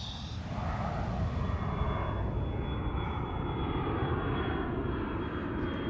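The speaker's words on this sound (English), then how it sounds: "on a plane taking off from Havana airport" A plane taking off from Havana airport, its engines roaring in a steady, loud, sustained drone that swells slightly and holds, with no voices over it.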